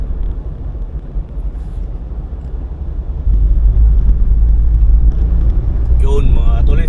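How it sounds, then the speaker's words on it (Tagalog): Heavy road traffic crawling through an underpass tunnel beneath EDSA on Quezon Avenue, a steady low rumble of engines that swells louder partway through, with faint squeals near the end. "Ito tayo sa baba, sa tunnel, traffic."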